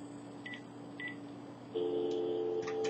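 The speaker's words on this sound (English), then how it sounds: "I'm going to dial the phone." A landline phone dials out with a few short keypad tones, then a steady ringback tone, all fairly quiet against a low background hum.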